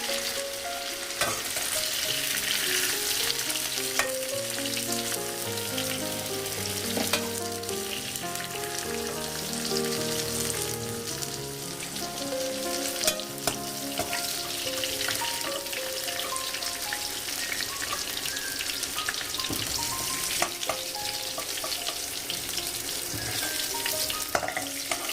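Ivy gourd (kundru) fries in oil with a dense, continuous crackling sizzle, close and steady throughout, under light background music.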